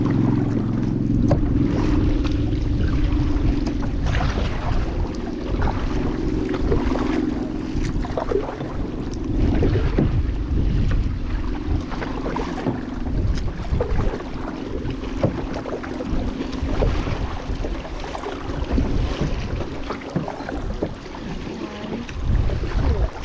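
Steady wind gusting over open water during a boat outing with dolphins and manatees, a continuous rushing roar with hull and water noise beneath, constant and fairly loud, no speech.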